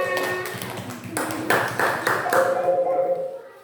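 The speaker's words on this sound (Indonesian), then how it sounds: "Tepuk tangan untuk kelompok macan." A school class claps for a group of pupils, a burst of close, uneven hand claps that tapers off toward the end, with voices in the room.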